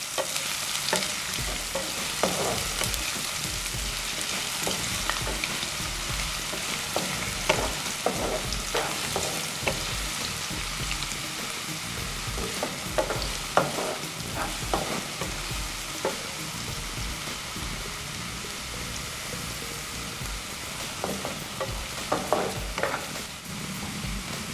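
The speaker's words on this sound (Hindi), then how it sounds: "अदरक डालेंगे, प्याज डालेंगे, इसको अच्छी तरह से थोड़ी देर चलाएंगे।" Ginger and onion frying in a pan, a steady sizzle broken by frequent scraping and tapping clicks as a spoon stirs and turns them, close and moderately loud, with no speech.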